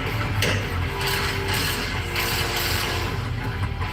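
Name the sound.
ratchet tightening truck rear suspension U-bolts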